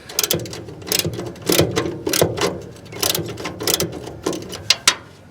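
Open-ended wrench working a bolt loose on a John Deere Gator utility vehicle, a series of close metallic clicks and scraping ratchet-like bursts with brief pauses between them.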